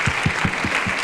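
An audience applauds a youth panel at a conference, steady clapping with a few distinct, louder low thumps recurring at a regular beat underneath.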